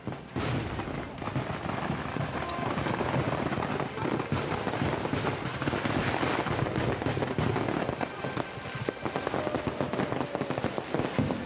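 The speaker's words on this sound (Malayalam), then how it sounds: "ക്ഷേത്രോത്സവത്തിനിടെ വെടിക്കെട്ടിനിടെ നടന്ന അപകടത്തിന്റെ ദൃശ്യങ്ങളാണ് നമ്മൾ കണ്ടത്" Temple festival fireworks crackle and pop densely and continuously in a loud, unbroken barrage of rapid bursts during a fireworks accident in Palakkad at night.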